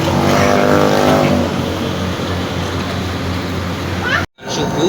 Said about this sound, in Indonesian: Ini armada kita, jet bus pariwisata